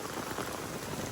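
Heavy rain pounds down in Bijapur, a dense, steady patter of drops hitting the ground, fairly faint and constant with no talk.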